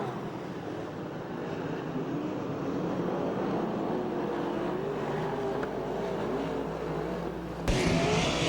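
USAC/CRA sprint cars race around the Ventura, California track, their engines blending into a continuous loud roaring drone with a brief sharp burst near the end.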